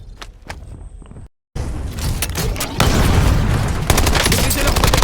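Gunfire bursts and booms from the video game Call of Duty: Warzone, loud and sustained over a busy, noisy mix with a brief silent gap early on, continuing densely to the end.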